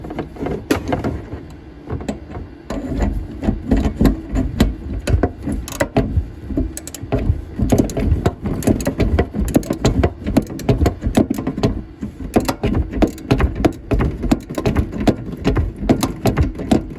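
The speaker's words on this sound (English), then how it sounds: "Just got the 11mm socket on the ratchet" An 11mm socket on a hand ratchet clicks steadily while undoing tap fittings under a sink, a long run of close, rapid, loud ratcheting clicks with brief pauses and no talking.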